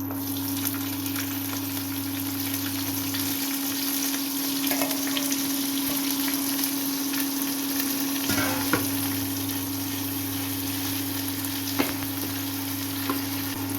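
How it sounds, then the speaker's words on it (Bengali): Chopped onion frying in oil with cumin and dried red chilli in a home kitchen, a steady close sizzle with occasional stirring scrapes, no talking, and a low hum running underneath. "এখন আমি কেটে রাখা পেঁয়াজ দিয়ে দেবো"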